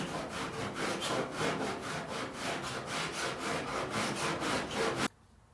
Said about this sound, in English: But before it dries all the way, I'm going to hit it with a cheese grater.